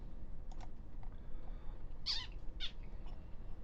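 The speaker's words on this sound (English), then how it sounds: "She's such a small cat." A very small cat gives two short, fairly faint meows close together, set against a low steady background hum, with a few soft clicks before them.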